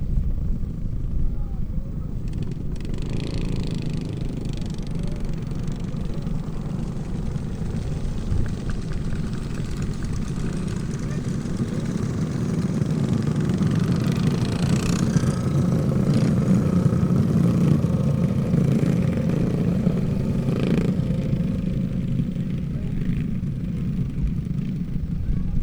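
Racing kart engines drone and rev continuously at an outlaw karting dirt track at Twister Alley Raceway, a steady mid-distance roar that swells slightly as the field passes, with a voice talking over it.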